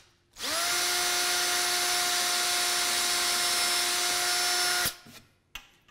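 A power drill fitted with a countersink bit bores screw holes in a woodworking setup, one loud sustained high whine lasting several seconds before it stops abruptly, then a few small clunks.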